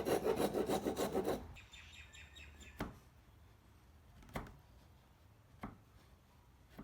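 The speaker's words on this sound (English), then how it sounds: "I finished off the corners with a handsaw and chisel." A handsaw rasps steadily across a wooden corner for about a second, followed by three sharp, separate taps and scrapes from a chisel, with faint birdsong outside.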